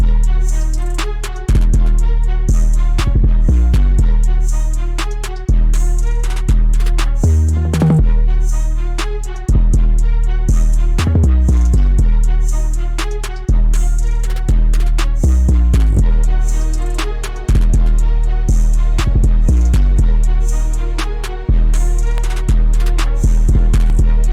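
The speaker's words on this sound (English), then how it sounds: "our 808 sounds something like this." A loud hip-hop beat with a deep booming 808 bass line under crisp drums, with quick rapid-fire rising 808 rolls building in places.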